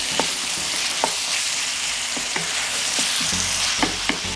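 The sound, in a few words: seasoned vegetables being stirred and fried in a pan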